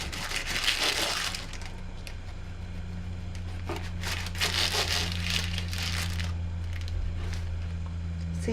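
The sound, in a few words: knife cutting the edges of baked Sri Lankan coconut cake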